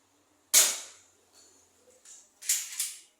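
A toy cap gun fires a sharp, loud crack, followed by a few fainter clicks and then two more close, snappy pops near the end, with no talking.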